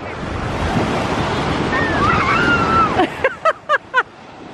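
Ocean waves break and wash up on a beach with a constant loud rush and wind buffeting the microphone, followed at the end by a short series of bird-like chirps.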